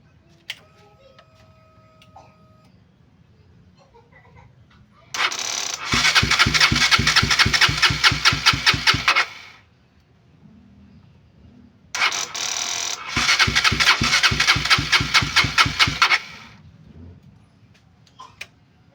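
A KTM RC 200 motorcycle engine cranking but failing to start, two loud sustained bursts of rapid rhythmic starter chugging separated by a pause, with quiet idle background before and between.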